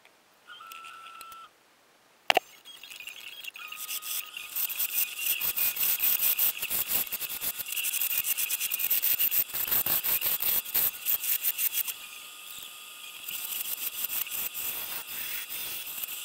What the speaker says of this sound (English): we're going to use this drill to finish going in as deep as we're going to take the bowl